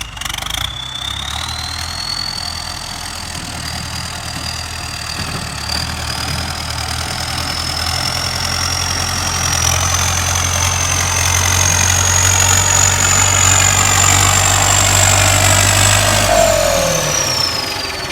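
A Ford 6610 turbo tractor engine runs steadily throughout, its low diesel rumble joined by a whining turbo that gradually rises in pitch before dropping off near the end.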